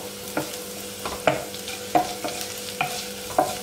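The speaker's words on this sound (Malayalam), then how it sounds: "നമ്മളിനി മുളക് പൊടി ചേർത്തിട്ട് കുറച്ച് സമയം കൂടി ഇളക്കി കൊടുക്കും" Onions with Kashmiri chilli powder being stirred in a pan for green gram curry: five or six distinct scraping stirs at a steady rhythm over a low, continuous frying hiss, close and moderately loud, with no voices.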